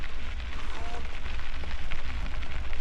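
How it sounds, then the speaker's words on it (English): Hail pelting down on a cyclist's gear and the ground during a cold, wet bikepacking ride in Colorado, a dense, steady rattling patter that stays loud and constant throughout. "Now we're getting hailed on."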